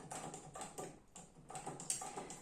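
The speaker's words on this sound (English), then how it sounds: "the Singer sewing machine" A quick, rhythmic mechanical clatter of a vintage Singer sewing machine stitching paper seed packets in short bursts with brief pauses, close and moderately loud.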